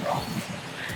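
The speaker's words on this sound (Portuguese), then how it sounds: "o cachorro que veio atrás de mim já veio aqui de novo" A street dog barks and yips close by in short, agitated bursts, with people talking over it.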